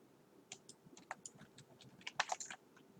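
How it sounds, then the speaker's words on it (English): Computer keyboard keys are pressed in a quick, irregular series of close, crisp clicks, with no talking. "just use the delete button on your keyboard"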